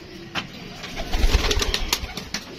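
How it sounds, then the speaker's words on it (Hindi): Teddy pigeons cooing close by in a loft, a few soft throaty coos rising and falling with rustling and light background noise. "ये देखें जी दोस्तों ये कबूतर है"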